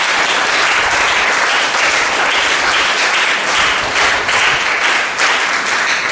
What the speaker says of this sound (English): Let's clap for Jesus one more time